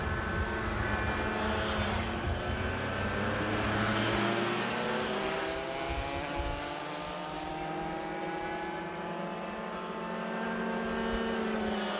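A pack of Yamaha Cadets Open racing karts at a kart race run with buzzing, overlapping engine whines that rise and fall in pitch, staying fairly loud throughout and thinning slightly later.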